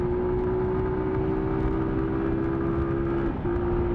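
Car engine of an Earl pulling hard in fourth gear after a clutchless upshift, a loud steady close-up drone with rising pitch that dips briefly near the end as the next shift begins.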